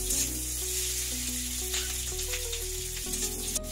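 Chopped capsicum and tomatoes frying in a pan over a high gas flame, giving a steady, close sizzle with faint stirring scrapes and no talking.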